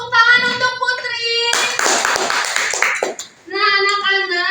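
Children in a grade 4 classroom clap for a classmate named Putri in a dense burst of applause lasting a couple of seconds, sitting between stretches of sung or voiced tones.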